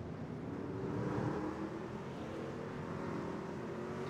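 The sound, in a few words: racing trucks shifting into gear and rolling off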